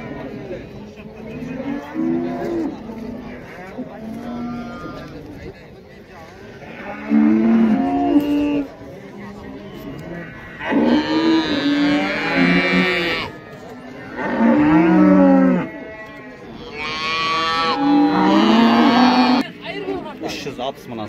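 Cattle low repeatedly at a busy livestock bazaar, several loud drawn-out moos coming in separate bursts, with murmuring voices of the market crowd underneath.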